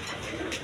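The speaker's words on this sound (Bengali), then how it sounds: "একদম বিগ সাইজের দেখার মতো কবুতর।" Big-sized pigeons, a Barhoma pair kept with two eggs, coo in a brief, steady low murmur close by, with no talk over it.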